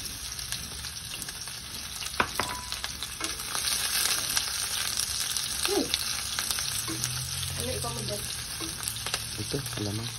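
Onion and garlic sauté in a pan as a bitter gourd dish gets going, a steady sizzle broken by scrapes and clacks of stirring, close and clear with no talk.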